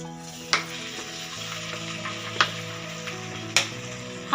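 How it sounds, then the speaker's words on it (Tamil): Okra sautéing in oil in a pan, a soft even sizzle with three sharp clacks of a spoon striking the pan at intervals, close by and alone. "ஆயில் சேர்த்துட்டு எல்லா வெண்டைக்காலையும் அந்த ஆயில் படுற மாதிரி நல்லா பெரட்டி விட்டுக்கோங்க."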